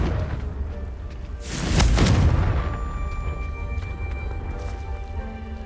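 A Confringo fire spell goes off in Hogwarts Legacy as a single loud, booming blast that swells and rumbles for about a second, then fades into a low ambient game backdrop with no talking.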